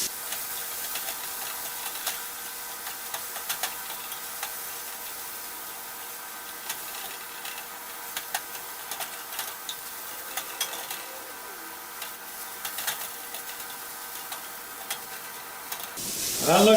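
Scrambled eggs sizzle faintly in a copper skillet while being stirred, a soft continuous hiss with occasional scraping, heard close up without talk until a louder clatter at the very end.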